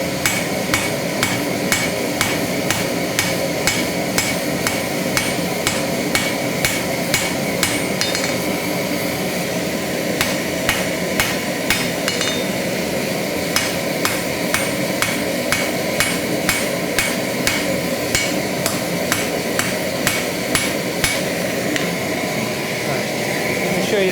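Steady, rhythmic hammer blows ring out on hot metal while forging the lips of blacksmith tongs, dozens of strikes in quick succession with brief pauses, over a constant roaring forge hum.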